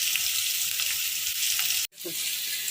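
Small fish with salt, turmeric and lightly fried onions sizzle steadily in a pan, a continuous close hiss that cuts out for an instant and then resumes.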